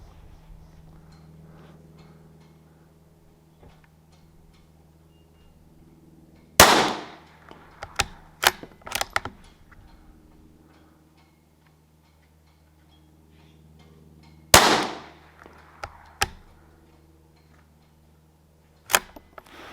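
Gunshots from a Tikka T1x rifle with a 16-inch barrel at a shooting range: three loud, sharp cracks spaced several seconds apart, each trailed by a few quieter clicks and clatters, over a faint steady hum.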